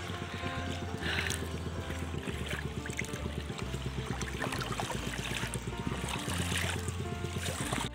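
A motorboat cruising on water during a New Year's Eve outing, its engine droning steadily with a low, even hum and water rushing alongside for the whole stretch, close and loud with no talk.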